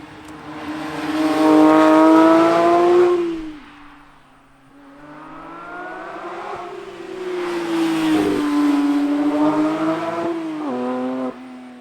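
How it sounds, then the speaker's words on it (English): A 2022 Porsche 911 GT3 (992-generation) accelerates hard on winding roads in Georgia, its engine note climbing in a loud pull, easing off briefly, then rising again through a second sustained surge, with no talking. "Let's go hit the twisty bits here in Georgia and go on throttle."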